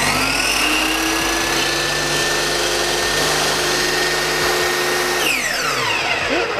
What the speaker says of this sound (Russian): Наша пила готова. Осталось только включить сеть и зеленую кнопку.